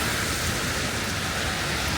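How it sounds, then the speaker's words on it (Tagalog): Heavy wet snow mixed with rain pours down steadily outdoors, a dense, even hiss of falling precipitation with no break and no voices. "Ang lakas po naman ng snow."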